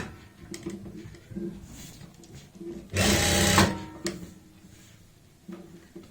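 An electric sewing machine stitches over an existing seam while attaching a pocket, giving one loud, fast, steady whirring run of about a second amid quieter handling noises and soft background sounds.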